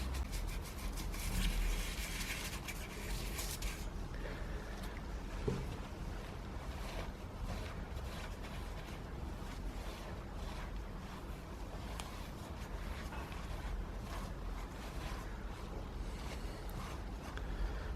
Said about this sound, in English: for the more stubborn deposits I'm using some carb cleaner. This is a foam type. And then a stiff brush.